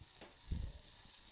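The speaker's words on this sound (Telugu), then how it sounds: "ఈ కాడల్ని మనము బాగా ఫ్రై చేసుకోవాలి తొందరగా ఫ్రై కావన్నట్టు అటు ఇటు అటు ఇటు కలుపుకుంటూ" Chopped nalleru (pirandai) stalks fry in a pan with a faint, steady sizzle. A single soft thud of stirring comes midway.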